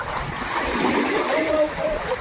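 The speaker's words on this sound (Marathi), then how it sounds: "मग लाटांचा आवाज ऐकू दे तुम्ही" Sea waves wash and surge in a continuous, broad rush at a beach, loud and close with a steady roar and faint splashing, no clear breaks between swells.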